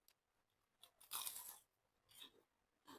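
Someone chews a crunchy battered bite snack close by. Several quiet, separate bursts of crisp crunching are broken by short pauses, with no voices.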